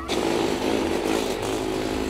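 Racing kart engine at Blackbush kart track, a loud buzzing two-stroke whine held steady and close for the whole stretch, no voices.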